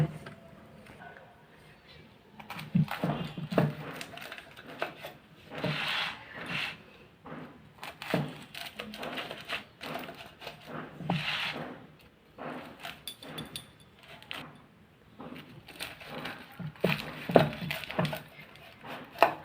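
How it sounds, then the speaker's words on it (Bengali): A knife slicing through a freshly fried bachelor-style paratha gives repeated crisp cutting and scraping strokes in uneven bursts, close and moderately loud, with faint background noise between cuts. "এখন আমি আপনাদের একটা কেটে দেখাবো যে ভিতরে কেমন সিদ্ধ হয়েছে"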